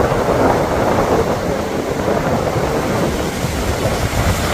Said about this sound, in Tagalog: Sobra talaga ang lalaki ng alon.